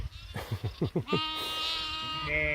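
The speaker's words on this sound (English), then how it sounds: "some of those lambs are bawling because they can't see their mother." Hair sheep lambs bawl for their mothers in a tall-grass paddock, a quick run of short bleats building into long, loud, wavering cries that carry clearly close by.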